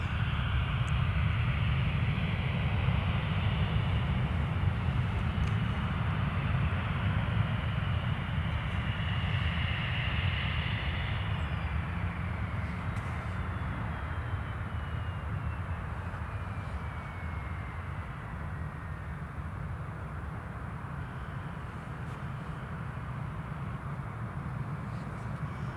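A Loganair plane takes off at Newcastle Airport, its engines a broad, sustained roar that slowly eases in level as it climbs away over more than twenty seconds.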